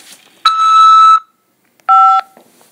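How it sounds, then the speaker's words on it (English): Two electronic beep tones on a jail collect call from a Nebraska corrections facility, a long steady tone followed after a pause by a shorter two-pitch tone, clear and close over a quiet phone line. "After the beep, press 5 to accept this call."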